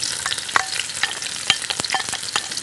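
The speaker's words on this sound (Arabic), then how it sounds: "مع التشويح السريع." Onion stir-fried quickly in a pan alongside vegetables for chicken and noodles, a bright crackling sizzle broken by sharp repeated stirring scrapes and taps at an uneven pace.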